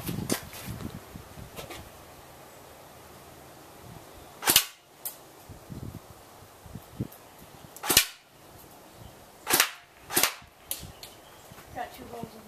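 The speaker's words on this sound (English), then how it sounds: "it's really going to put the airsoft gun to the test" Airsoft gun firing at a cardboard target: a string of sharp, separate cracking shots at irregular intervals, each short and clear over a low background hiss, with no talk.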